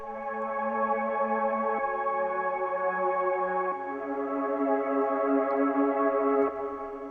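Sustained synth pad chords from the Particles Pad preset, filtered with lows and highs removed, holding steady shimmering tones with a few smooth chord changes, alone and without voices.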